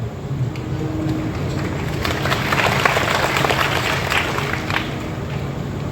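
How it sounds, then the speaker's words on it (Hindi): An audience at a Hindu kirtan gathering claps together in a dense, continuous patter of many hands that swells slightly in the middle and holds steady, with no voices over it. "ताली तो बजा रहे हैं"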